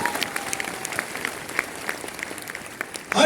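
Audience clapping at a Modicare business gathering, a steady patter of many hands filling the hall, swelling louder near the end.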